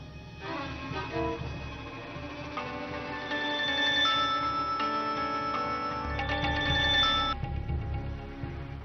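A telephone rings with a repeating electronic tone over a steady ticking rhythm, fairly quiet, with no voices present.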